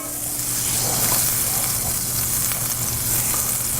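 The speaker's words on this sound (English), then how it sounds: "I'm going to go ahead and stick some butter in here. A little bit of olive oil" Butter and olive oil sizzle and fry steadily in a hot new pan, a loud, constant crackling hiss that runs without a break and without any speech.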